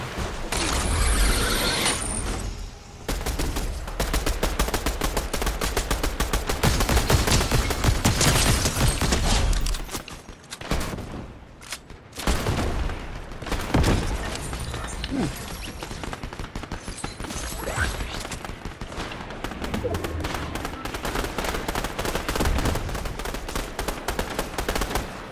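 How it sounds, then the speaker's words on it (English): Dense, sustained gunfire from a jungle-set video game shooter, rapid automatic bursts and volleys crowding the whole stretch with only a brief lull near the middle, loud and close throughout. "Shooting over here."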